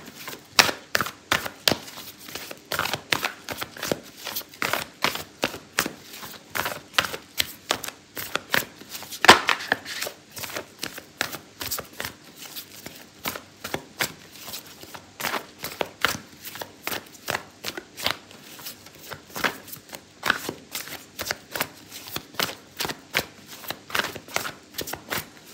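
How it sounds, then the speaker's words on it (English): Oracle cards being shuffled continuously, a steady run of crisp riffling flicks and slaps repeating quickly for the whole stretch, close and clear with no talking. "I'm gonna pull out an oracle card for you"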